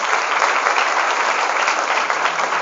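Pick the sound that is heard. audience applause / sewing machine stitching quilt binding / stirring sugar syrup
audience applause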